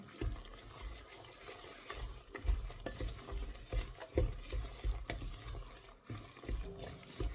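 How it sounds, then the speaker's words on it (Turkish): Semolina for pistachio helva is roasted in a pan with continuous stirring, giving soft rhythmic scraping and swishing over a low sizzle, close and steady without speech. "biraz daha fazla kavuruyorum irmiğini"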